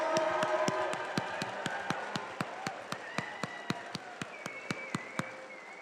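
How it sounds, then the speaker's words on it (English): A crowd at a Doctor of Physical Therapy white coat ceremony applauds graduates with a soft, steady wash of clapping. A few louder, evenly spaced claps nearby stand out against it. "can we get one more very loud round of applause for all of our white coat?"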